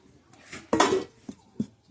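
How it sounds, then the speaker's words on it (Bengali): A metal kadai (wok) is set onto a lit stove while a vegetable tiffin is cooked, giving one loud metallic clatter followed by two shorter, softer knocks, close by with no talking. "উনুন ধরিয়ে কড়াই বসে দিলাম"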